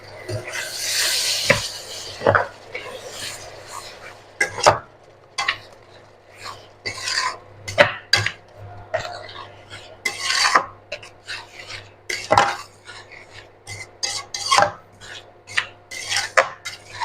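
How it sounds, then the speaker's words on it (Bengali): Grated coconut is stirred into melted jaggery in a pan. Close, irregular rasping and scraping strokes repeat throughout, with a few sharper utensil clinks against the pan. "গুড়টা একটু জাল দিয়ে নিচ্ছি। নিয়ে এর মধ্যে আমি নারকেল কুড়াটা দিয়ে দিচ্ছি গুড়ের মধ্যে।"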